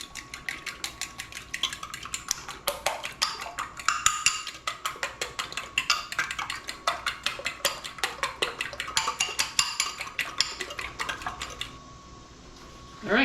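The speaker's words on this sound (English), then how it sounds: "Now I have here 3 eggs that I'm going to beat." Three eggs being beaten in a bowl for a lime pie, a rapid run of close, even whisk or fork clicks against the bowl that continues steadily before stopping, with no voices.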